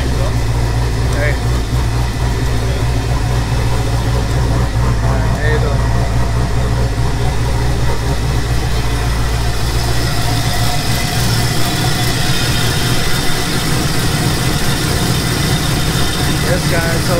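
A Nissan 300ZX with a swapped LS V8 idles steadily right after its first start of the season, a loud continuous low rumble with people talking over it.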